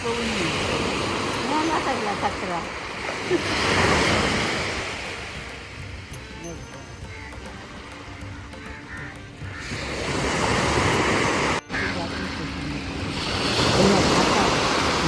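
Sea waves roll onto the shore, surging and receding in loud washes that rise and fall over about fifteen seconds, with wind buffeting the microphone throughout.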